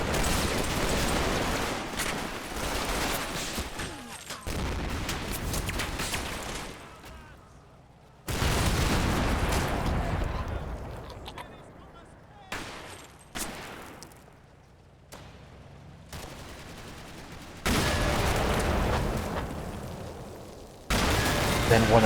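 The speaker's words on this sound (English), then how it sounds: "Then one of the Staghounds gets taken out by 20mm cannon fire." Rapid bursts of 20mm cannon fire crack through a Combat Mission World War II battle at Mondrainville, loud and close, with heavy booming blasts separated by short silent gaps.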